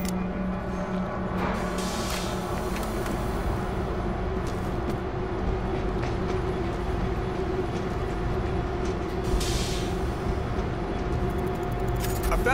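A train rumbles steadily as it gets moving in the zombie shooter World War Z, a dense mechanical drone with rattling and clanking layered over it, heard throughout under occasional game noise.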